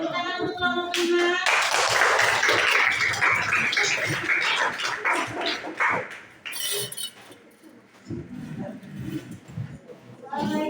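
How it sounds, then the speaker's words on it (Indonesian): Classroom of seventh-grade students clapping for a student group heading to the front, a loud burst of hand claps that fades after several seconds, with voices chattering and a brief squeal mixed in. "Ya, tepuk tangan untuk kelompok 5."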